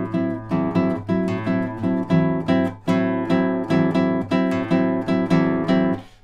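Guitar playing the opening vamp of Danza Brasilera, repeated plucked chords in a steady dancing rhythm with notes left ringing, close and clear with no voice.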